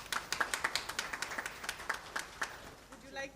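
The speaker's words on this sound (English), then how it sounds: "A round of applause for her, please." A small audience at an architecture essay prize award ceremony claps for Isha Choksi, a sparse run of distinct, fairly close hand claps in a loose rhythm that slows and trails off, with a voice faintly entering at the end.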